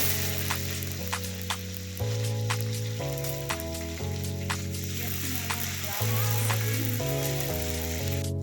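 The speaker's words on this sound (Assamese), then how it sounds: "আমাৰ পিঁয়াজখিনি ভাজা হৈ গৈছে" Chopped onions fry in oil with a bay leaf for a local chicken curry, a continuous close sizzle broken by light clicks, over a steady hum and shifting tonal drone.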